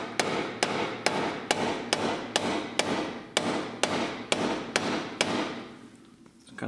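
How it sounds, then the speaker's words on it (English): A dead blow hammer strikes metal about a dozen times in an even rhythm, sharp close thuds spaced roughly half a second apart, then stops. "So a dead blow hammer comes in handy."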